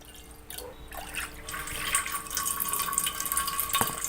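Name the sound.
water poured over pressure cooker lid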